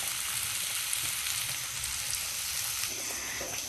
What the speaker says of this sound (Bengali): এদিকে আমার অন্য একটা কড়াইতে যে ফুলকপি ভাজিটা বসিয়েছিলাম সেটা